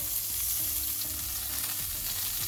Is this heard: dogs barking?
no